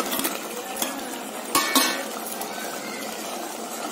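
Fish being stirred into fried tomatoes in a pot, with a spoon clinking and scraping against the metal in a few sharp taps over a steady soft sizzle, close by, no talking.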